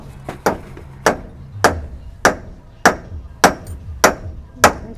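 Nails are hammered in, about nine sharp, evenly spaced blows roughly every half second, loud and close, with a few faint extra taps near the start.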